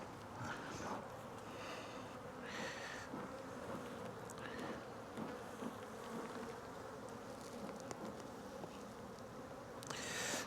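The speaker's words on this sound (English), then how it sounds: "This box is just billowing over with bees now." A dense, steady hum of honey bees swarming around an overflowing hive box during a spring colony split, close and continuous, with occasional louder passes of individual bees near the ear.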